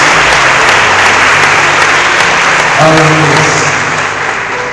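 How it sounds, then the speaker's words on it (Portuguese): Church congregation at an Easter service in Poços de Caldas, Brazil, gives loud, dense applause that holds steady throughout, with a few voices rising briefly near the end as it begins to fade. "Queria que a igreja desse uma aplauso muito forte para eles aí."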